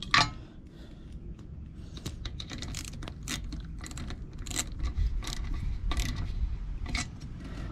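A ratchet clicks in quick uneven runs of small metallic ticks up close while screwing in a Toyota Camry tire pressure sensor, with faint handling noise around it.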